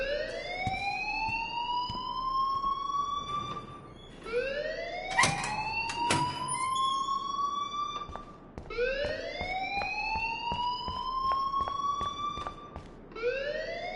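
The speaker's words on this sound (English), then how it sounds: "please turn off that alarm since that's your job" A repeating rising-and-falling fire alarm siren wails inside the video game Life is Strange, three long sweeping cycles with sharp clicks and knocks between them, loud and steady with no talk.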